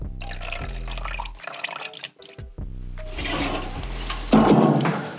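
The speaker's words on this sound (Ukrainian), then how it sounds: "А також додаємо е, розчинник." Solvent poured into a paint hardener mixture for painting car plastic, a close, continuous liquid trickle and splash with a brief pause partway through.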